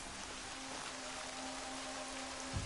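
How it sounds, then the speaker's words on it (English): Steady, even rain hisses throughout in the video game Horizon Zero Dawn, a dense wash of patter with a faint low hum underneath and no voices. "now it's raining."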